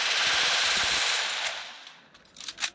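Rapid automatic gunfire in a video game rattles out as a loud, dense stream for about two seconds, then tapers off into a few faint trailing shots.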